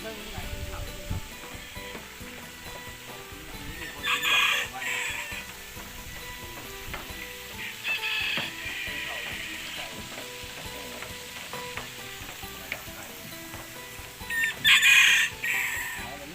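Chickens and roosters at a temple market in Laos cluck in short intermittent bursts, with a few louder calls standing out, heard faintly over a busy outdoor background with people talking.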